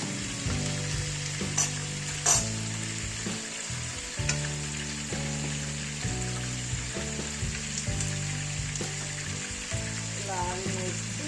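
Bay leaves and spices sizzle in hot oil with garlic while chicken pickle is cooked, a steady close frying crackle with occasional stirring, under faint background music.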